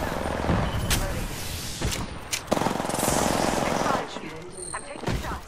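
Rapid gunfire in the video game Apex Legends, bursts of automatic shots and single loud cracks mixed with in-game effects, dense and close throughout.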